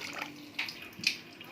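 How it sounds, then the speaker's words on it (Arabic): Water is poured into a refrigerator part to rinse it, giving short splashy bursts over a brief stretch, fairly close and moderately quiet. "هدلق بقى في قلبه دلوقتي ميه واشطفه ان شاء الله"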